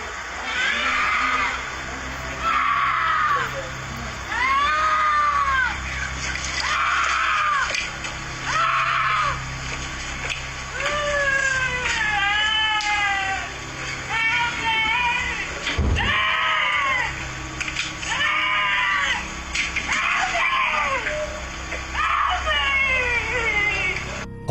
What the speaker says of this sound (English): A woman screams out for help as she seemingly walks calmly down the street in front of Oscar's home.